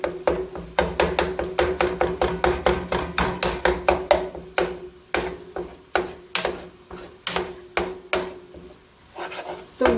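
A pound of ground meat is chopped and broken up in a pan for a keto cheeseburger casserole, giving a steady run of close, rhythmic knocks and scraping bangs with no talk.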